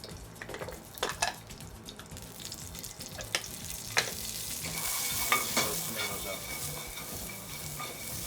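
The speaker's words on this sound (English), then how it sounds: "Blister them tomatoes." Tomatoes blister in a drop of olive oil in a pan, giving a close, crackling sizzle broken by spatters, stirring scrapes and a few sharp knocks. The hiss grows denser toward the end.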